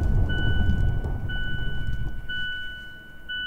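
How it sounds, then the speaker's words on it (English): A car's seatbelt monitor warning chime sounds during a brake support test, clear electronic tones repeating about once a second over a low, rumbling cabin background. "That's the seatbelt monitor."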